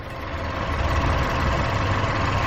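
A car engine idles steadily nearby, a low, even rumble with no voices over it.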